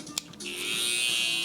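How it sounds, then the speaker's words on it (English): A Babyliss hair trimmer with thin blades buzzes steadily and close during a low drop fade haircut, starting after a few brief clicks and holding an even, high-pitched whine with no talking. "for the design I'm gonna use a babyliss trimmer just because it has thinner blades"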